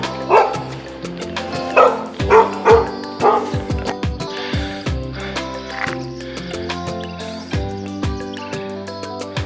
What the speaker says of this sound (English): Many dogs here.